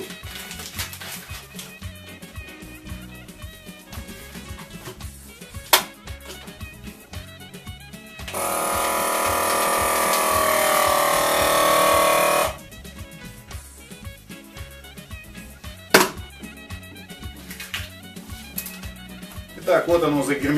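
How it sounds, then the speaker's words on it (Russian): Vacuum sealer drawing air from a bag of beef for basturma, a steady motor whir lasting several seconds between quieter stretches of kitchen handling noise and clicks. "Ну, вакууматор для этого подходит оптимально."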